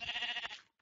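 A single short bleat from a sheep in Minecraft, close and clear, cutting off abruptly with a faint trailing echo.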